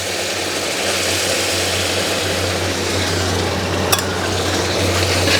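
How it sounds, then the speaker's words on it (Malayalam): Duck stock goes into a simmering Kerala duck biryani masala in a pan and is stirred, giving a steady, close, even hiss of sizzling liquid and stirring throughout. "ഇതിലേക്ക് നമുക്ക് സ്റ്റോക്ക് വാട്ടർ ഒഴിച്ച് കൊടുക്കാം."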